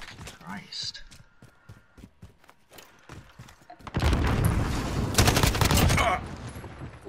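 Call of Duty Modern Warfare gunfire: sparse shots and footsteps under a voice at first, then about two seconds of dense, loud automatic fire and explosions that ease slightly toward the end.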